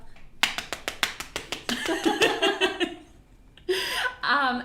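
A quick, even series of sharp slaps imitates a male penguin's flippers flapping against the female during mating, then gives way to breathy, chuckling vocal sounds.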